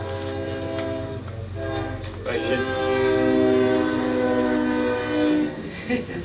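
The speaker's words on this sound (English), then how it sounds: "I wanted to let the train get by." A train passes during an outdoor zoning meeting in Wells County, North Dakota, its loud horn blaring in long sustained blasts over the rumble of the cars. A voice briefly speaks beneath it.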